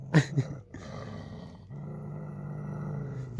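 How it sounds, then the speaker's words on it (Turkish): Low, rumbling growls from a street dog, in two bursts of steady snarling separated by a short break and ending with a couple of louder sharp barks or yelps, close to the microphone. "Bak bak hırlamaya bak."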